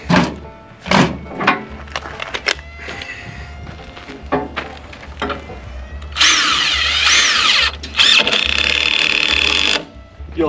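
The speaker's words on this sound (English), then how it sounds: "I'm only going to attach these screws here to this back side." A battery power drill drives screws into a homemade tractor counterweight, with a few short bursts early, then a sustained whirring run in the second half, interspersed with talking.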